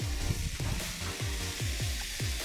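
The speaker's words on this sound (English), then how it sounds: "Hear that sizzle?" Jamaican BBQ pigtails sizzle steadily on a hot grill, a dense continuous hiss and crackle close by, with a faint rhythmic knocking underneath.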